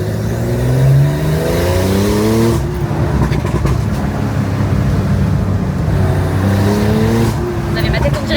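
Supercars on a damp road in Mauritius accelerating hard, engine notes climbing in repeated upshifting sweeps, loud and close, with someone talking over the engines.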